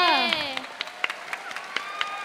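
An audience at a JANKEN 2020 event applauds with scattered, sparse claps under a person's amplified speech, the clapping fairly faint and irregular.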